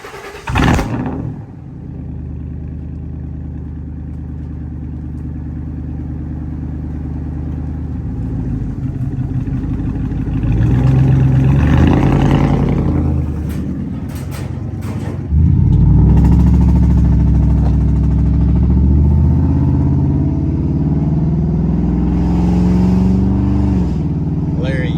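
A truck engine treated with Seafoam cleaner runs and revs in sustained surges for a long stretch, loud and close, rising in two strong bursts.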